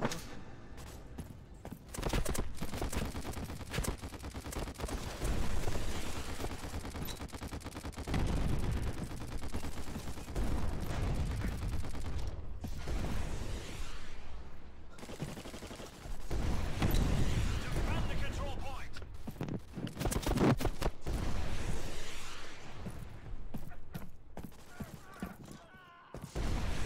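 Rapid gunfire from the video game War Dust, dense bursts and volleys that run almost continuously at high loudness, with a player talking excitedly over the shooting.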